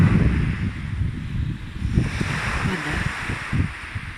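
Sea waves surging and washing continuously, close and fairly loud, mixed with steady wind buffeting the microphone; no talking over the surf.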